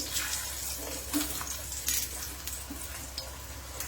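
A paratha sizzling in hot oil in a pan, a steady crackling fry with small pops and spatters, close and moderately quiet, with no talking.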